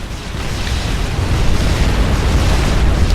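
An enemy factory blows up in the real-time strategy game Supreme Commander, giving a loud, sustained rumbling roar of explosion that swells and holds steady with dense low-end crackle, with no talk over it.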